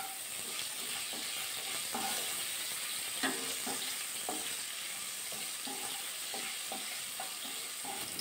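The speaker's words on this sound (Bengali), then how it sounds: "নাড়াচাড়া করে উচ্ছেগুলো ভাজা করে দেবো লাল লাল করে।" Bitter gourd slices fry in oil in a wok, a steady soft sizzle punctuated by frequent light clinks and scrapes of stirring at an irregular rhythm, close by with nobody talking.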